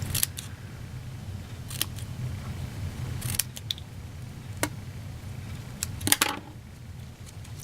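Close, crisp scissor snips cut paper for a handmade card, a few separate cuts spaced irregularly over a quiet background.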